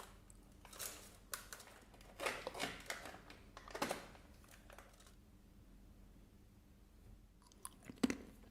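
Crunchy chewing of pepper and onion flavored cashews, close and quiet, with bursts of crisp bites spaced across the clip and soft pauses between.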